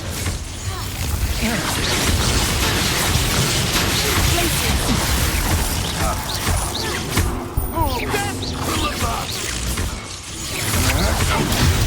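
A Confringo explosion spell cast in the Hogwarts Legacy video game, a loud, sustained fiery blast and crackling debris rolling on for several seconds, with voices over the din.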